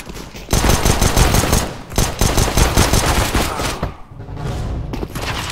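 Loud automatic rifle fire in CS:GO, rapid bursts separated by short pauses, followed by quieter scattered shots near the end.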